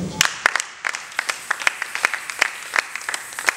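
A church congregation applauds loudly at a French-language sermon, the claps dense and steady, ringing in a reverberant hall without pause.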